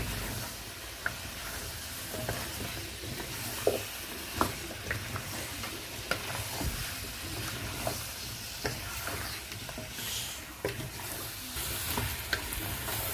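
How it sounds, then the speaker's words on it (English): Potatoes being stirred into pilau in a pot: a steady sizzle with repeated spoon scrapes and knocks against the metal at an irregular rhythm, close and fairly loud, and nobody speaks. "There goes in the potatoes. You give it a good mix."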